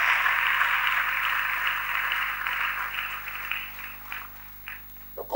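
A church congregation applauds for a while, a steady wash of clapping that gradually thins and fades toward the end, with a few scattered claps remaining.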